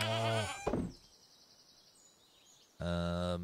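A goat in the Stardew Valley farming game bleats twice, loud and close, with a short quiet gap between the calls.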